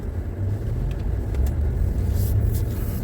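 A Cadillac Vistiq pulls away in drive with a low, steady engine and road rumble from inside the car, plus a few faint ticks and clicks over the top and no talking.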